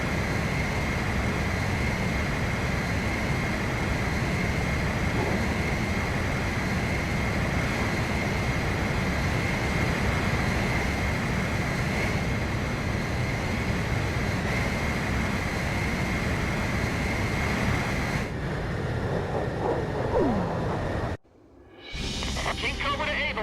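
A jet aircraft refuelling in midair in Ace Combat 5 gives off a steady, dense engine roar with a faint high whine. It holds unbroken for about twenty seconds before cutting off abruptly.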